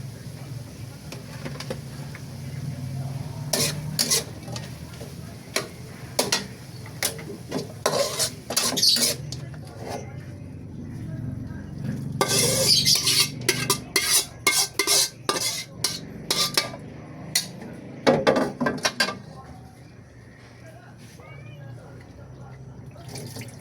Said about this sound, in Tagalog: pwede na po natin yan ibuhos dito sa kumukulo nating munggo